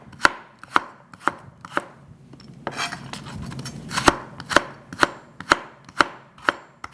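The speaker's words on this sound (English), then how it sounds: "Cut it into a real thin julienne and then dice." A knife dices celery briskly on a cutting board, sharp regular taps in quick succession with a short pause midway, close up and clear.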